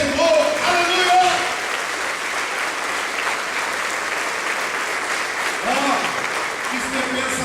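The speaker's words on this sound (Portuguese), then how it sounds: "os que creem aplaudam ao Senhor" A church congregation claps steadily and loudly throughout, while a preacher's voice carries over the applause.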